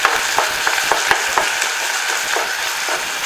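Garlic sautés in a pan for poondu kuzhambu, a steady close sizzle broken by light spoon clicks and scrapes against the metal, with no voices.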